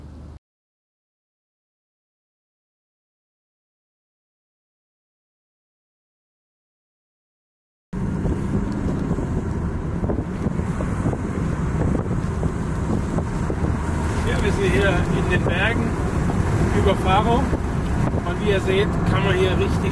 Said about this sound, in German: wollen wir natürlich jetzt auch mit dem Auto fahren